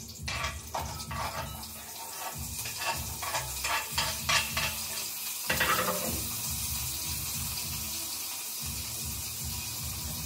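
Mustard seeds crackle and sizzle in hot oil as a dal tempering starts for Khandeshi varan, with steady frying hiss, scattered pops and a brief louder burst midway, no talking.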